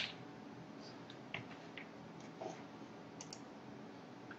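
Someone types on a computer keyboard while entering a name into a database program: scattered light key clicks, quiet and close, with a few louder taps.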